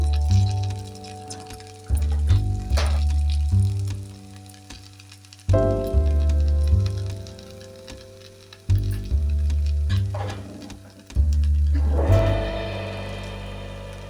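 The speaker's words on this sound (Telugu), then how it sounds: "గోంగూర మంచిగా ఫ్రై అవుతుంది. ఆయిల్లో ఫ్రై అవుతుంది." Gongura (sorrel) leaves fry in hot oil for an Andhra red-chilli pickle, giving a steady sizzle that swells in repeated bursts beside a melodic tonal background, with no speech.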